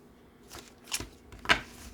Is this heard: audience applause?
no